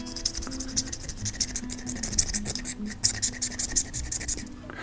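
Crinkly plastic wrapping is scratched and rustled as packages from a budget survival kit are opened close up, a continuous busy crackle with no speech.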